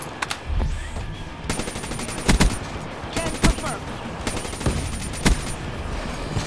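Rapid automatic gunfire from Black Ops 3 multiplayer, loud repeated bursts and single sharp shots over a dense background of game noise and echoes, with a few heavier blasts standing out.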